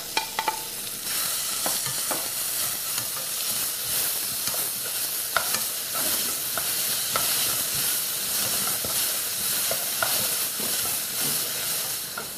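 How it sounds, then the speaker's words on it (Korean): Onions sizzle steadily in melted butter in a pot for French onion soup, a continuous bright hiss broken by occasional clicks and scrapes as they are stirred. "냄비에 버터를 좀 녹여 주시고요. 양파를 갈색이 나도록 양파를 볶아주겠습니다."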